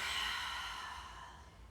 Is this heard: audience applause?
no